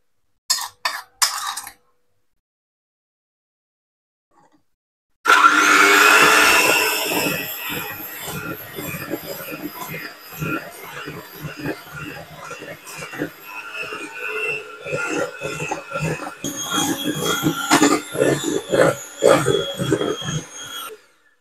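Electric mixer beating eggs and sugar for brownie batter, starting abruptly after near silence and running as a continuous whirring drone with clattering and rattling against the bowl, fairly close and loud.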